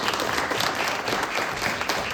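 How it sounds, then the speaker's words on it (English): Audience applause fills a room at an annual meeting, steady dense clapping from many hands at moderate distance, continuous with no voices over it. "For Sonia, we don't have to prompt applause. She just gets it."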